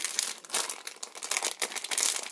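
A plastic bag holding a cheap fidget spinner crinkles and rustles close up in dense, irregular bursts for a couple of seconds, with no talking.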